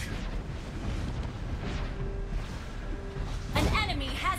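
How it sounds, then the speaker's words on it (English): A turret being destroyed in Mobile Legends, a loud crashing burst near the end following a steady low rumble of battle noise, with game voice announcements over the mix. "Our turret has been destroyed."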